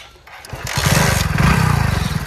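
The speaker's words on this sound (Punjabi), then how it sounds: "ਚੱਲ ਆ ਮੁੰਡੇ ਨੂੰ ਮੋਟਰਸਾਈਕਲ ਚਲਾਉਣਾ ਸਿਖਾਉਣਾ" A motorcycle engine runs close by during a riding lesson, rising from a quiet start into a loud, throbbing low putter with a fast regular pulse that holds steady to the end.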